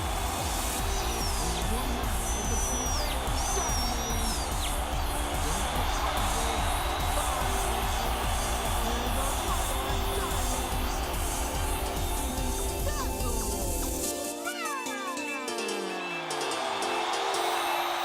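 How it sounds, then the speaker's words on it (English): A dense wrestling crowd cheers and roars continuously at a live independent pro wrestling show, loud and sustained, with music and an announcer's voice running through it before a brief dip near the end. "crowd certainly loving Dazzle tonight."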